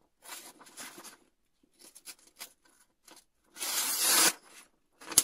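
An MBK Fieldtrekker knife cutting into sappy wood, close scraping and tearing strokes in short bursts with gaps, one longer rasping cut near the end.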